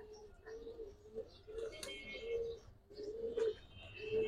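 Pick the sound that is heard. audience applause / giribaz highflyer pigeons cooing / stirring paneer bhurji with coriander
giribaz highflyer pigeons cooing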